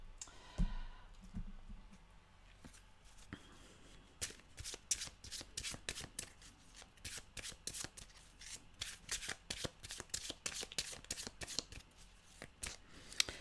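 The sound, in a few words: shuffling oracle cards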